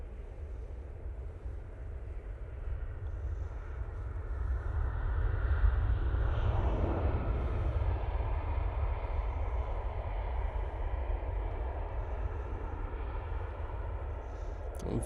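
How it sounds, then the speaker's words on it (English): Qatar Airways Boeing 787-9 Dreamliner arriving at Manchester Airport from Doha, a low, steady jet rumble that swells slightly midway and stays distant and fairly faint throughout. "It's the second of the 2 Qatars coming in from Doha, using the 787-9 Dreamliners."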